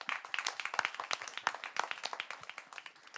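An audience applauds conference panelists with a brisk, steady patter of hand claps from a modest crowd, fairly close and unbroken throughout.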